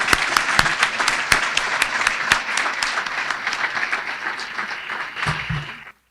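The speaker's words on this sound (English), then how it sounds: "Please join me in a warm round of applause for our sponsors." A large audience at a Sonoma County State of the County address breaks into sustained applause, dense clapping that starts strong with a few sharp claps and slowly fades out over about six seconds, with no voices on top.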